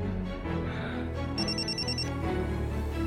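A telephone rings with repeated bright electronic trills, heard clearly over a dramatic musical score.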